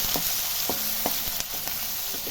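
Two medium onions dropped into hot oil with cinnamon in a pan, frying with a steady close sizzle and several light stirring taps spaced through it, no talk.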